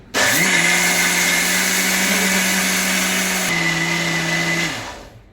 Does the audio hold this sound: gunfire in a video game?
no